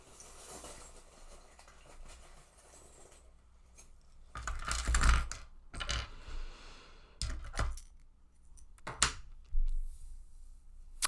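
Small metal charms clink and clatter in a few separate bursts as they are pulled out by hand during a card reading, with quiet pauses between the rattles.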